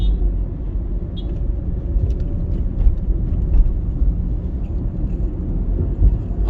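A car cruises along a highway in Kingston, Jamaica, its low road rumble and tyre roar loud and steady from inside the cabin throughout, with no voices.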